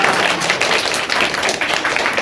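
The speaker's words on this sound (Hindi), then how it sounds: "इनके लिए भी मैं थोड़ा ताली बजाता हूं" Applause for the chairman at a school Teachers' Day celebration, a loud, dense burst of many hands clapping together, steady and close for a couple of seconds with no voices over it.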